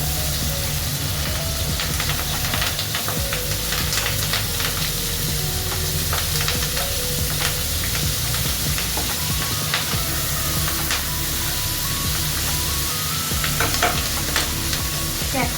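Onion pieces sizzle steadily in hot oil in a pan alongside tomatoes and green chillies for a fish curry, with continuous loud frying and occasional stirring scrapes throughout.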